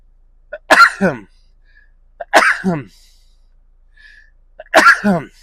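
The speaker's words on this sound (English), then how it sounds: "there's always 3 sneezes, and it's the hay fever season" Three loud hay fever sneezes, evenly spaced about two seconds apart, each a sharp intake followed by a burst, close up with quiet between.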